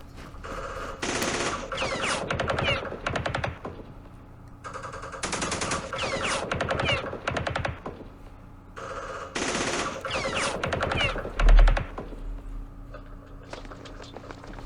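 Gunfire in the wargame Campaign Series Middle East, with repeated loud bursts of rapid automatic fire in several clusters over the stretch and short pauses between volleys, and no speech.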